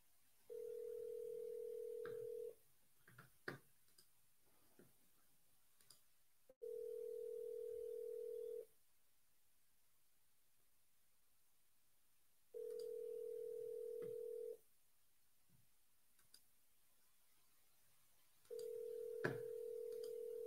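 A telephone dial tone sounds as a call is placed, a steady, clear tone held for about two seconds at a time and repeated four times with long quiet gaps between, a few faint clicks and knocks in the pauses.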